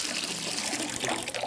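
Water from a tap running steadily into a bathtub, a constant close splashing rush with no pauses.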